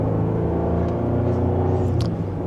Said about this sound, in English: we can put it into the low range gear, and from 2nd gear, give it a minor acceleration